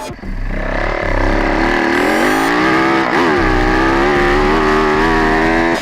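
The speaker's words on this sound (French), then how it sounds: "on vous propose de découvrir le circuit du Puy-de-Pourcé vu de l'intérieur en caméra embarquée sur la 450 Yamaha de Milko Potisek" A Yamaha 450 motocross bike on the Saint-Jean-d'Angély track, recorded onboard, roars loud and close, its engine pitch climbing and falling through revs and gear changes.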